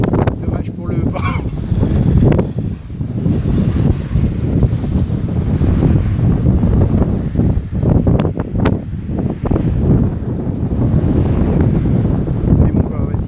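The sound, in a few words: wind blowing into the microphone at sunset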